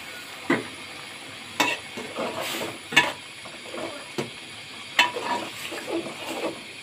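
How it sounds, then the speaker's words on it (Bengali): Prawn curry cooking in a pan, with sharp clinks and scrapes of a spoon stirring against the metal at irregular intervals over a low, steady simmer, close up and with no talk. "এটা চিংড়ি মাছ দিয়ে রান্না করছি"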